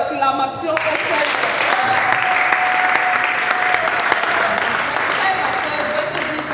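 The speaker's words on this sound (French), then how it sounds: "Alors donnez des acclamations au Seigneur." A church congregation at an evening French-language revival service breaks into loud, sustained applause and cheering, dense clapping with raised voices throughout.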